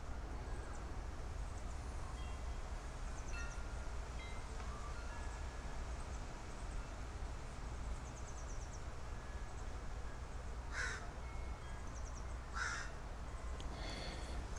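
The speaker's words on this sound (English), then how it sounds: "the crow is cawing over there" A crow caws several times from a distance, short harsh calls in small clusters over a steady low rumble of background noise.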